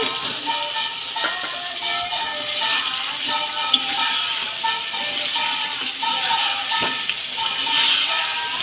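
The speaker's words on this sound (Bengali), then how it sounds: "আর এই দেখো আমি এখন নেড়ে নিচ্ছি ভালো করে কষিয়ে নিচ্ছি" Egg and potato being sautéed in a spice masala: a bright, continuous sizzle of hot oil with occasional clinks and scrapes of stirring, fairly loud and close, with no one speaking.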